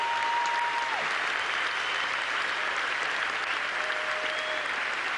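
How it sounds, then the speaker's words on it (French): A crowd at the 2001 US Open tennis final claps for the two finalists, with dense, sustained applause filling the stadium at an even level throughout. "demande d'applaudissements pour ces deux champions"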